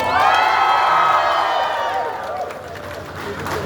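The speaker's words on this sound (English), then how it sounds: "To all of you all, a big round of applause." Audience at a NIMA Mobility Expo cheering and whooping in a dense, loud crowd roar that tapers slightly toward the end, with voices shouting over it.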